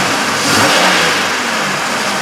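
A 2003 Chevrolet Impala engine running rough with a cylinder 5 misfire, a loud, close, uneven engine roar that swells briefly and carries faint irregular stumbling, with no talking.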